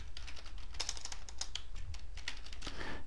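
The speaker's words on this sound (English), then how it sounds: "let's go over here and type in" Steady, rapid typing on a computer keyboard, a close run of crisp keystroke clicks continuing throughout at moderate volume.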